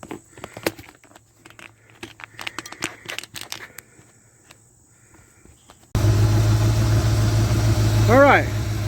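A 1972 GMC C1500 pickup with its original engine cranks and catches after some clicking and handling noises, then settles into a loud, steady close idle.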